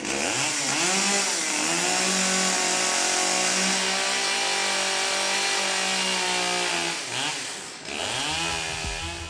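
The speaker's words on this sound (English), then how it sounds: "we brought a chainsaw that we'd rented from Home Depot, very much like the characters in the movie did" A rented chainsaw engine running steadily at high revs, close and loud, with its pitch dipping and climbing as the throttle changes.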